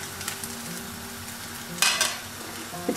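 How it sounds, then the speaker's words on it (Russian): Pancakes frying in a pan for a Turkish breakfast, a steady close sizzle with brief scraping and clinking of a utensil against the pan partway through. "с другой стороны тоже у нас зажарилось хорошо"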